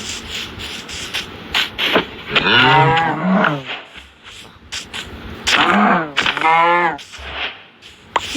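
A Minecraft cow lets out two drawn-out moos, each loud and close with a pause between them, over faint game background noise.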